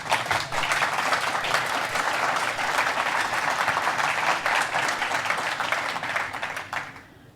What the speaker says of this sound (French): vous pouvez applaudir votre président